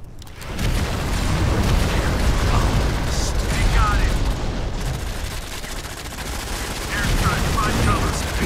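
Dense, steady gunfire and mechanical clatter from the Modern Combat 5 shooter game run at close range for most of the stretch. The sound swells again near the end, with a faint voice under the noise.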